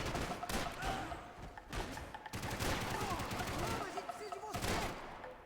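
Gunfire in Max Payne 3 comes in rapid bursts and scattered shots with heavy thuds. It plays loud and close, with game sounds and a voice mixed in.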